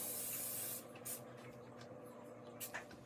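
A spray bottle gives a long, loud hiss of fine liquid mist that cuts off abruptly, followed by a couple of shorter, fainter spritzes.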